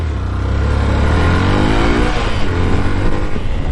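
A BS6 motorcycle engine revs loudly and unevenly close by in first gear, its pitch climbing and wavering as the throttle is opened incorrectly.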